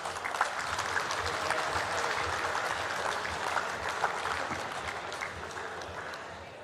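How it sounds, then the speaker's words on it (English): Sustained applause from an audience at a basketball league event broadcast, honoring a club's board, staff and volunteers; a steady, dense wash of clapping lasting several seconds with no speech over it. "Please, could we have a round of applause for the board, staff, members and volunteers of Club Pine Rivers."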